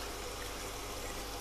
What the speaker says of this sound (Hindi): अब ये थोड़े से भून चुकेंगे, इसमें थोड़ा सा पानी ऐड कर दे रहे हैं